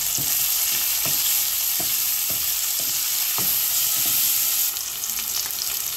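Bay leaves, onion and cumin fry in a pan for a Karfu fish bhuna, giving a steady close sizzle broken by regular knocks of a stirring spoon. No voices are heard.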